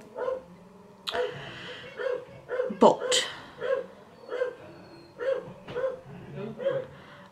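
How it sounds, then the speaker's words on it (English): A dog barks repeatedly in the background of a home, a steady run of sharp barks spaced about every half second, moderately loud beneath a person talking. "If you can hear the dog barking,"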